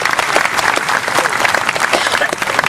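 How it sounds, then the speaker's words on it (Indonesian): Audience applause, dense and steady throughout, at a talk gathering with two hosts welcoming performers on stage, with some voices mixed into the clapping. "tepuk tangan semuanya"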